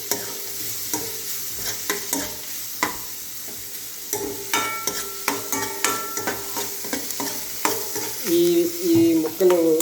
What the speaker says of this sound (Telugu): దీంట్లో కొంచెం నూనె పోసి తెరమూత గింజలు వేసి ఒక మీడియం సైజ్ ఆనియన్ కోసి ఇది ఇలా వేయించుకోవాలి